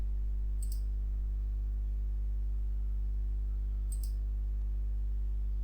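Two distinct computer mouse clicks in Creo Parametric, a few seconds apart, crisp and close over a steady low electrical hum, with no voices.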